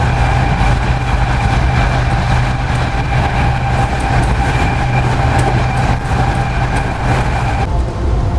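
Pak Business Express train running at about 104 km/h, heard from aboard as a loud continuous rumble with rhythmic rattling and a steady tonal hum, no talk.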